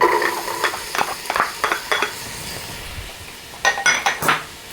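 Chopped onion hits a hot pan and sizzles while a spatula stirs it in short scraping bursts, close and fairly loud, with a pause before a final flurry of stirring.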